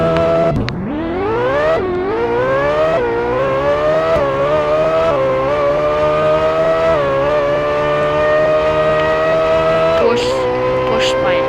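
Porsche Spyder driven in a racing video game, its engine note climbing steadily as the car accelerates through upshifts, loud and continuous with brief drops at each gear change.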